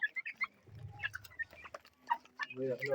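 A backyard hen clucks in short bursts close by, among other farm birds and animals, with a person talking over part of it.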